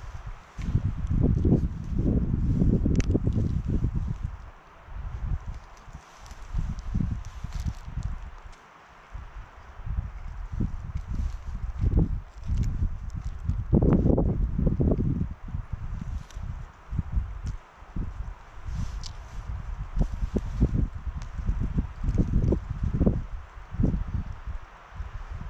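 Very strong wind buffeting the microphone on a ski slope, heavy low rumbling gusts that swell and drop in repeated bursts, close and loud throughout, with no talk.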